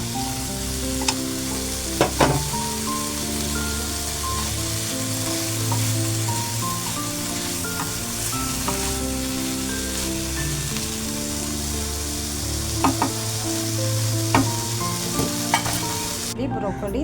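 Broccoli with fried tomato and paneer sizzling steadily in a pan, a continuous close frying crackle with occasional sharper pops and stirring clinks, under faint background music without speech.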